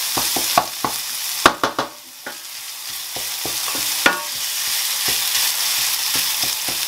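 Garlic and ginger frying in a pan with a loud, steady sizzle, broken by several sharp utensil scrapes and stirs, close up and with no talk.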